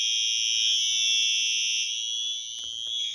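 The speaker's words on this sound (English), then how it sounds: "The fire alarm keeps going off" A store's fire alarm sounds continuously, a loud, piercing electronic tone that holds steady throughout, with faint background noise underneath.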